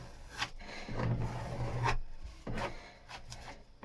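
Hand sanding the underside of a boat's deck, a rough rasping scrape in uneven strokes with brief pauses between passes, heard close and fairly quiet with no talking.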